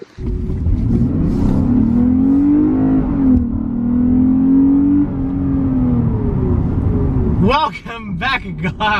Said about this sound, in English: So we are now driving the Lexus IS350 F Sport